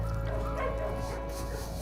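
A black dog at an animal shelter gives short yips and whimpering barks, close by, over a constant low rumbling background hum.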